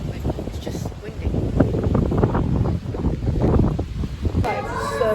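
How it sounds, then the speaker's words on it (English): Wind blows on a beach in Crete, buffeting the microphone in a loud, low rumble that rises and falls in gusts, while someone talks over it throughout. "it is a bit windy"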